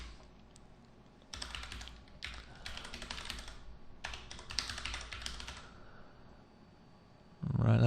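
Bursts of typing on a computer keyboard, quick clicky keystrokes in three runs separated by brief pauses, close and fairly loud, with no talking over them.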